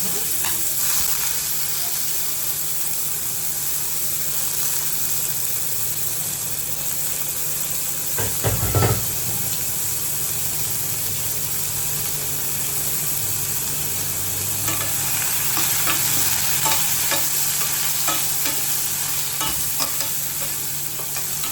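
Onions sizzle and crackle steadily in hot oil, with occasional stirring scrapes and a brief louder clatter partway through, close and continuous.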